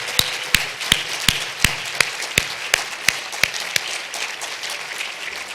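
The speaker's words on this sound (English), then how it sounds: "So let's give them a round of applause" At a global health symposium, steady clapping for the logistics team and staff carries a few sharp, evenly spaced claps standing out above a soft bed of crowd applause, with no talking.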